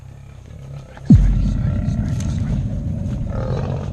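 An aggressive wild lion facing a group of five armed hunters in the bush lets out a sudden loud roar, followed by a sustained rumbling growl under steady background noise.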